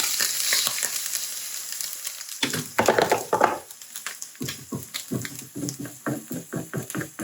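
Egg and ham fry in butter in a covered pan on low heat, a soft steady sizzle broken by scraping and stirring knocks near the pan.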